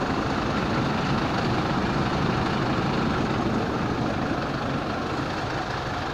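Volkswagen 17-230 truck with a four-cylinder diesel engine idling, a steady low rumble that is loud and unchanging throughout, close by, with no voices.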